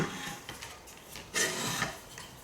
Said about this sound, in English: we keep our charging handle in there, and as we go in, move it in slowly